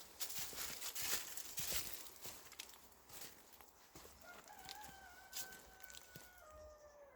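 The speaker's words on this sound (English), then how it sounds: "Sounds like all the birds are waking up" Birds call across an early morning allotment, a rooster crowing among them, faint and distant over soft rustling ambience, with thin whistled calls rising near the end.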